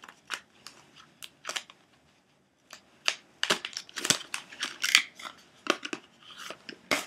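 Plastic MAC makeup palette packaging being pried open, a run of sharp crinkling, snapping and rustling handling noises in close bursts, with a brief quiet pause before a busier stretch.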